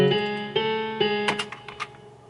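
A plain piano melody in a hip-hop beat without any pitch-bend dip: sustained tonal notes change every half second, then a few brighter, sharper notes follow near the end before the sound fades.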